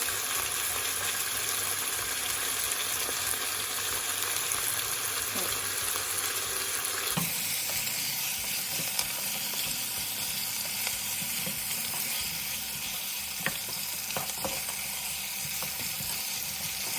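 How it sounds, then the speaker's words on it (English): Beef stock cubes and chopped vegetables sautéing in a pot for an oxtail stew, a steady close sizzle of frying with occasional stirring scrapes and clinks running throughout. "continue to add the 2 beef stock cubes into the pot and then continue to saute again for another minute"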